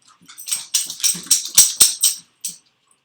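A dog barks in a quick run of sharp, loud yelps, about eight barks over two seconds, then one more after a short pause.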